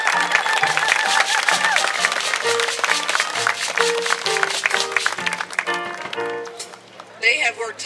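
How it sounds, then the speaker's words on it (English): Crowd applause at a cultural garden event, clapping and cheering mixed with voices and a tonal, music-like element, loud and busy before thinning toward the end. "Can we give them a round of applause?"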